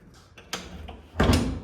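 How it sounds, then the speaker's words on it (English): Metal door of a 1974 International truck body swapped onto a 1998 Honda CR-V opens with a few clunks and rattles, then a louder metallic creak and thud close by, no talking. "we might as well open the door and see what happens."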